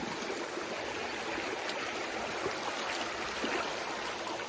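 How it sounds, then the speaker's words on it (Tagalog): A clean farm stream flows steadily, its broadband rushing and trickling water filling the scene close by without pause, with no voices over it. "Sapa. Sapa dito guys, ang linis."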